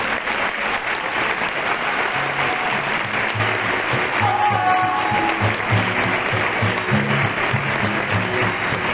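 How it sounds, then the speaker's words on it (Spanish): An audience applauds a speaker at the Immunofest 2014 event, with sustained loud clapping from many hands throughout and a faint murmur of voices mixed in. "os pido un súper aplauso para Naya Garrido"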